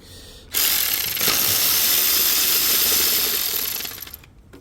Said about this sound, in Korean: 이거 보이는 볼트는 싹 풀어버릴게요.